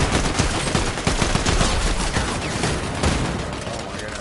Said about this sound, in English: Because they're shooting at me.